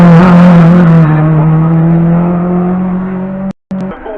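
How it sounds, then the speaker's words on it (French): A historic race car at the Bagnols-Sabran hill climb, its engine holding a loud, strong steady tone close by, then fading slightly as it pulls away. "Claude Vézol qui est en piste, qui vient de s'élancer sous nos yeux"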